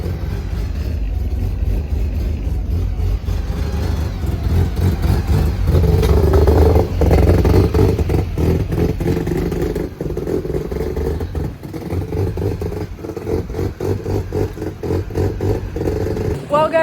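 An FC project car's engine runs steadily, a strong mid-pitched rumble with clattery texture that swells for a few seconds around the middle, with a person talking over it throughout.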